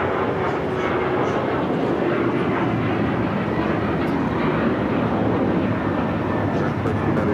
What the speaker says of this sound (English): United Airlines flight 1553 is 737 MAX 8